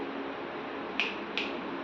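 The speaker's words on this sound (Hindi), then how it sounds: "चुटकी बजा के समझो।" Two crisp finger snaps, close and distinct, spaced about a third of a second apart over a steady background hum.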